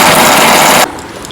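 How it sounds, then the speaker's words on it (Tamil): Electric mixer grinder whirring loudly as it grinds squid, a dense steady roar for most of the moment before cutting off abruptly into quiet. "அதுக்கு பதிலாக நம்ம மிக்சியில் வந்து ஒரு சுற்றி எடுத்தோம்"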